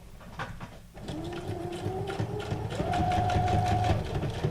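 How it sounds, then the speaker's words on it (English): Sewing machine stitching through a junk journal card, a steady rapid mechanical whir with a pause near the start, then continuous stitching at close range. "I decided to do the sewing before I put the collage on"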